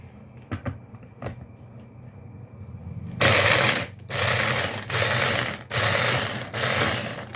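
A blender whirs loudly through a white onion for kimchi, in several bursts of steady motor roar with brief pauses between them, after a few quiet clicks and knocks at the start.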